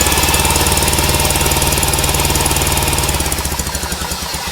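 A Milwaukee half-inch impact wrench runs up close as a loud, rapid hammering rattle that holds steady, then slows into separate pulses at the end.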